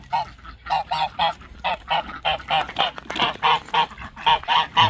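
A goose honks repeatedly in loud, rhythmic bursts at close range, with ducks nearby at a backyard pond and fenced pen; the calls come in a steady series of harsh, nasal blasts.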